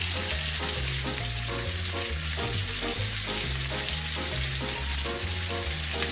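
A porterhouse steak sizzles and fries in a pan, a loud, steady crackle that runs without a break, with faint clinks and scraping underneath and no talking.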